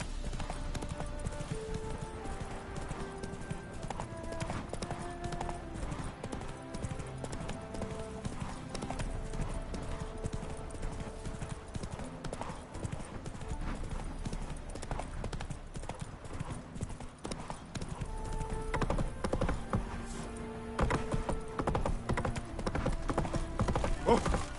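Hooves of the horse Roach galloping in The Witcher 3 video game, a steady rapid clip-clop rhythm running throughout under a bed of game background sound and music.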